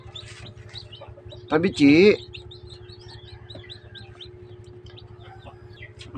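Newly hatched chicks peep from inside an incubator, a steady scatter of thin high chirps over a low mechanical hum, with a short burst of louder calls near the middle and a brief spoken exclamation.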